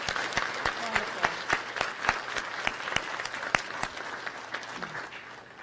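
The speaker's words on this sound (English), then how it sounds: "give you a big round of applause" Applause breaks out for a university search committee at the introduction of a new WCU athletic director, a steady patter of many hands clapping in a room with sharp individual claps standing out.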